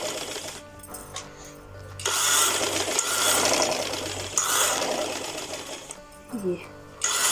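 Sewing machine running steadily as it stitches along the buckram line of a suit neckline, close and loud, with someone speaking over the whirring needle.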